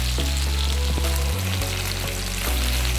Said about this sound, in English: I'm just gonna wait until those fry